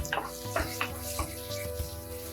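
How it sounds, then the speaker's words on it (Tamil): Two large finely chopped onions sauté in a pan for a peanut curry. The close, soft sizzle is broken by a few scraping stirs, over a faint steady tonal background. "வெங்காயம் நல்லா வதங்கட்டும்."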